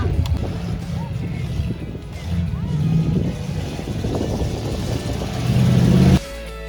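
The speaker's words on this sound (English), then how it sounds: "We're now in the buggy, sitting next to the driver, so I hope he drives well." Dune buggy engine droning and surging as it drives over sand, a steady mid-level rumble that swells toward the end before cutting off, with a voice talking over it.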